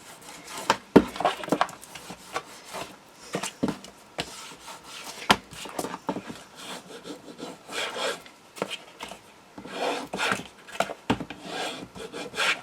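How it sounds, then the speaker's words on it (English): A paper chest craft has its sides burnished by hand, giving uneven rubbing and scraping strokes in irregular bursts, close and fairly loud, with no talk. "I'm just going to burnish the sides"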